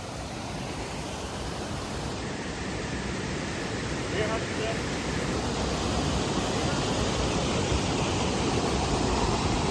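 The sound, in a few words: waterfall at Jawhar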